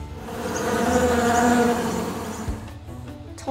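A bee buzzing, a wavering, droning hum that swells in the middle and fades toward the end, heard alone without talk.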